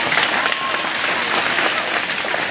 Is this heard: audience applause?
yes